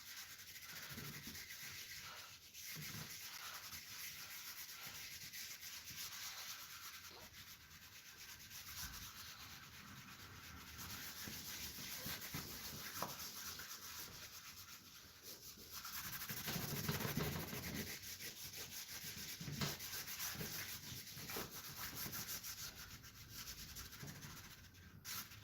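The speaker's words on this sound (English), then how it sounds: "I think what I might do is just rub some of this in" Soft pastel being rubbed into paper for a beach painting, heard as a faint, continuous close-up rubbing and brushing scratch.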